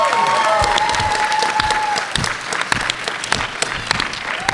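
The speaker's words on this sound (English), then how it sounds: "Big round of applause, guys." Loud, dense applause and cheering from a crowd at a Power Rangers convention panel, steady throughout with sharp individual claps near the front and a voice briefly heard.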